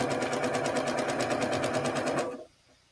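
A sewing machine stitches a quilt block in a steady, fast run of needle strokes, loud and close, stopping abruptly near the end and leaving quiet.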